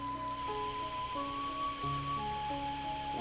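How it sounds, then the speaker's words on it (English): Rain in a video game, a steady soft hiss of falling water running under sustained tonal game music, even and continuous throughout. "Oh, it's raining."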